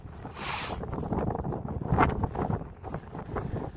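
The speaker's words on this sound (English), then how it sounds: "it's that windy, you probably can't hear what I'm saying" Strong wind on the Helvellyn summit buffets the microphone in rough, roaring gusts, with a sharp rush about half a second in and rumbling pressure throughout.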